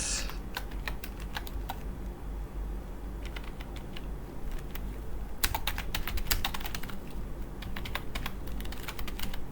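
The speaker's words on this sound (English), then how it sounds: "I hope I typed in the address right." Rapid, steady typing on a computer keyboard while entering a delivery address, with dense clusters of close, crisp key clicks, brief pauses between bursts, and a low background hum.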